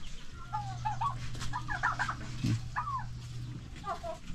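Chickens clucking outside their coop in a yard, several birds giving repeated close, bright clucks over a steady low hum.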